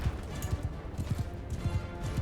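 Horse galloping in Mount & Blade II Bannerlord, rhythmic thudding hoofbeats repeating quickly under faint background battle noise.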